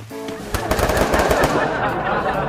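Rapid automatic gunfire bursts in the battle royale game Free Fire, dense close shots rattling for about a second and then tailing off into quieter shots and faint game noise.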